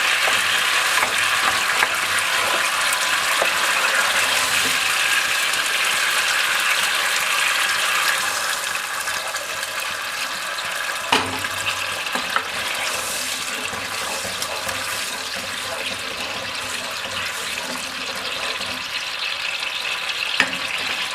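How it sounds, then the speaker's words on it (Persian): Boiling water is poured gradually into frying tomato paste for an Iranian meatless eggplant stew, producing a loud, continuous hissing sizzle with bubbling and occasional clinks that eases slightly partway through. "حالا وقتی که ربا سرخ شد کم کم آب جوش بهش اضافه میکنیم."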